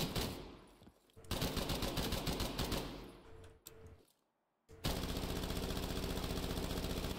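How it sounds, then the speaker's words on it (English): An M4 rifle with a drum magazine firing full auto in a shooting video game, with long rapid bursts of loud, close gunfire, a brief pause of near silence, then another sustained burst. "That's full auto."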